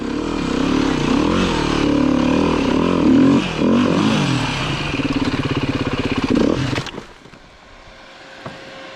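Beta 390 RR S four-stroke dirt bike ridden on trails, its engine loud and close with revving pitch swings and a rapid chugging stretch, then cutting off to quieter rustling near the end.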